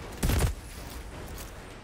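A weapon fires in the Outriders video game during a spider boss fight at Eagles Peak, giving a single loud burst of shots that cuts off quickly, followed by low game ambience.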